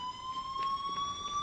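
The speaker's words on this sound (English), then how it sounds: "That blasted alarm, didn't it occur to anyone to turn the damn thing off?" An alarm sounds continuously with steady high electronic tones, loud and unbroken, with no voices over it.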